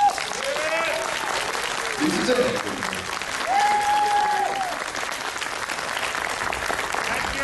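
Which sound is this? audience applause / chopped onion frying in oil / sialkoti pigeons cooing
audience applause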